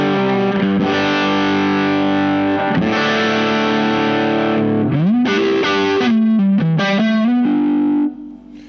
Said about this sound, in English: We're back now with the dirty channel of this amp